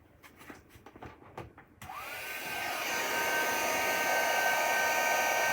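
A hair dryer blows on wet acrylic paint on a canvas. Soft handling clatter comes first, then a steady loud whooshing roar starts near the two-second mark and holds, with a whining tone as it spins up.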